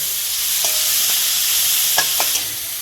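Shrimp lightly frying in a pan with green chilies, a steady close sizzle broken by a few short scraping stirs, no talking.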